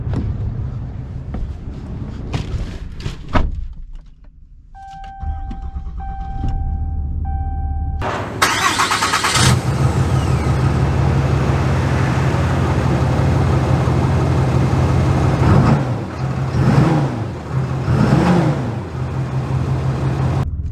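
A Ram 2500 RMT Overland lifted pickup truck is started, its engine catching with a burst, then settling into a steady low rumble as it drives off, the revs swelling and easing a few times.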